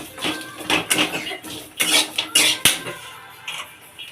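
Cumin seeds going into coconut frying in a pan, heard as a series of close, bright metallic scrapes and clinks from a spoon against the pan, each one short and separated by brief gaps.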